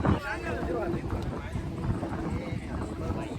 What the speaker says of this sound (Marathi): नुसतं वाराच वारा आहे